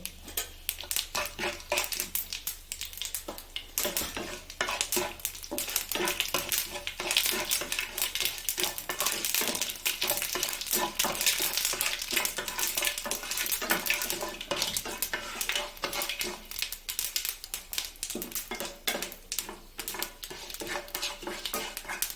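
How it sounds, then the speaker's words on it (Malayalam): Mustard seeds spluttering in hot oil with rice for a Kerala colocasia leaf thoran, a dense, continuous crackle of rapid pops with clinks and scraping against the pan, no talking. "കടുക് പൊട്ടിക്കഴിഞ്ഞു"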